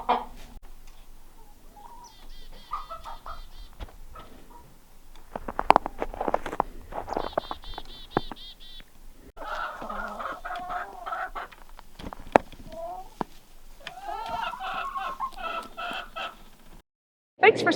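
A hen in a backyard flock with chicks gives a drawn-out egg-laying call, repeated bursts of clucks and rising squawks close by, interspersed with quieter rustling and pauses.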